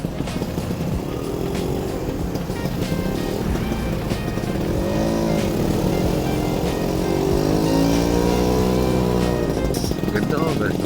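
Vespa scooters out on a group ride to Mt. Camisong, a close, continuous engine drone with revs rising and falling under loud, ongoing talk from a rider.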